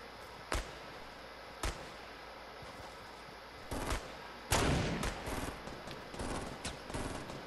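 Sniper rifle shots ring out in the PUBG video game, sharp isolated cracks spaced a second or more apart at first, then a denser burst of gunfire toward the end.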